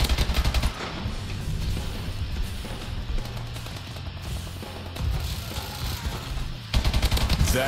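Rapid automatic gunfire in the video game Call of Duty Advanced Warfare, loud dense bursts of shots with booming impacts over a continuous busy game soundscape.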